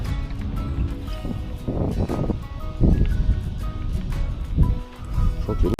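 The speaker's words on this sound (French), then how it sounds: "Je sens qu'il y a beaucoup de vent." Gusty wind buffets the open air at a lakeside fishing spot, a steady broadband rumble with louder surges, continuous and close to the microphone, with no talk.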